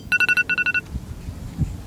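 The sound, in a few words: phone ringtone, incoming call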